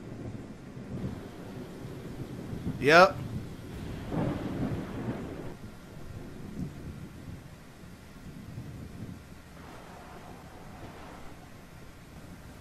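Rolling thunder rumbles through a steady rain, with a sharp crack early on and softer distant rumbles after, and a single brief spoken word.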